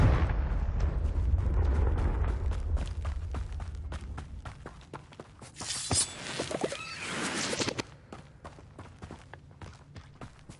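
Confringo blasting spell going off in Hogwarts Legacy, a loud burst of crackling, roaring energy in the middle of the clip over rumbling low game ambience and scattered clicks.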